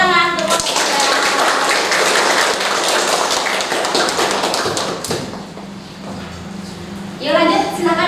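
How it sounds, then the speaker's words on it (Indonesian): A classroom of students applauds after a biology class presentation, with steady, dense clapping and tapping that thins out midway, then voices rise near the end. "Beri tepuk tangan."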